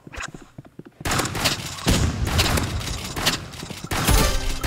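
Rapid gunfire in an online shooter video game, loud dense bursts of automatic fire and sharp shots following a quieter opening second, repeated in clustered volleys with no talking.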